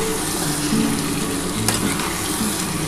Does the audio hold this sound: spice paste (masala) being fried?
yes